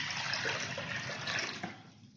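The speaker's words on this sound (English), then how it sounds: "starting with the brine, get a gallon of water" A gallon of water pours steadily into a pot for a rabbit brine, a continuous close rushing splash that tapers off near the end, with no talking.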